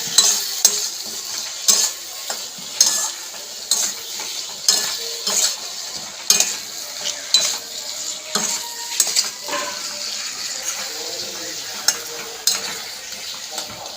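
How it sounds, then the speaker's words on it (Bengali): Ridge gourd and eggplant are stir-fried with spices in a pan, with repeated scraping and clinking of a spatula against the metal over a soft sizzle, close by and with no talk. "ব্যাস ভালো করে এবার কষিয়ে নেব।"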